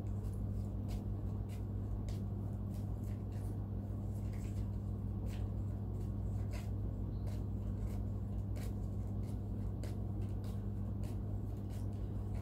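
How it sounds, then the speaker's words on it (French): A neighbour's tumble dryer runs on a balcony, a steady low droning hum with faint rumble that holds level and distant throughout, with small ticks over the top and no voices. "c'est quelqu'un qui a un sèche-linge sur le balcon et qui le fait fonctionner à cette heure-ci"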